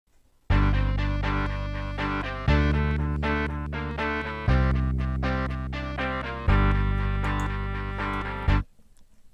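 A distorted rock passage of rhythm guitar and lead guitar with a melody track on top, four loud sustained chords changing every two bars, busy lead notes above, ending abruptly with no talk.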